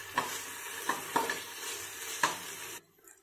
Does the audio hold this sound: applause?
no